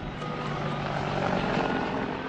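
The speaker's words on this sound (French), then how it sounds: "Un hélicoptère Apache survole un quartier de Bagdad." Apache helicopter flying over a Baghdad neighbourhood, its steady rotor chop and engine drone continuous and fairly loud throughout, with no voices.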